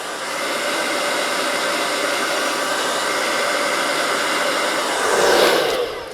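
Air is blown across a canvas to spread a Dutch pour of paint over a grey base: a loud, steady hair-dryer roar that holds evenly, then surges briefly near the end.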